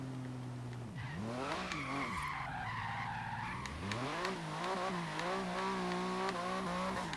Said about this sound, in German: Ich will mal probieren, ob ich mit dem Wagen ein bisschen, ja, ein ganz kleines bisschen driften kann.